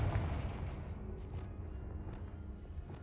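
A Confringo explosive spell goes off in Hogwarts Legacy, a loud low booming blast at the start that rumbles on and decays over the following seconds, with no voices.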